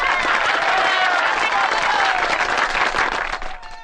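Audience applause fills the space as a dense, steady wash of many hands clapping at close range, holding loud throughout before tapering slightly at the end.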